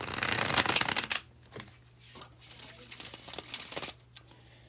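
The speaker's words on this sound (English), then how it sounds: "when I do the bridge shuffle, as I just did" A deck of cards riffled in a bridge shuffle for a tarot-style reading, a loud fluttering burst followed by softer riffles and a final short flick, close up with no talk.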